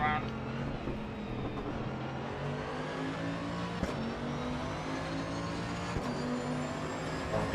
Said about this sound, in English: It's a very fun car to drive. I mean, the noise of it's incredible. Even just down to the shifts.